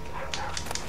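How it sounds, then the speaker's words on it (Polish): Small terrier barking in The Witcher 3, a few short yaps and whimpers in the distance over a steady low game ambience. "Gdzieś tam szczeka, wkurwia się."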